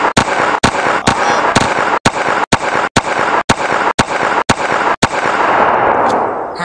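Cartoon gunfire after a command to fire: a rapid series of about a dozen loud, sharp shots in an uneven rhythm over a dense, continuous roar, ending in a fading rumble.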